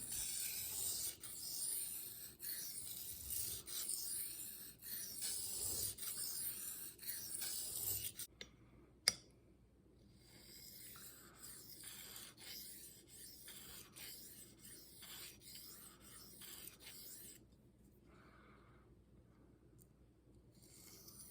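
Maxamet steel rasps against a diamond sharpening plate in quiet, repeated back-and-forth strokes, with a sharp clank partway through, after which the strokes become fainter.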